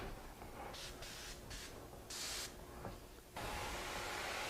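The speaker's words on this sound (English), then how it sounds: "Now I can take my airbrush" An airbrush sprays in several short bursts of steady, loud hiss with brief pauses between them, finishing in one longer continuous spray.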